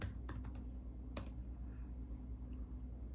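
Someone types on a keyboard while working through Dutch autocorrect: a quick burst of light taps, a pause, then a single tap. A steady low hum sits underneath.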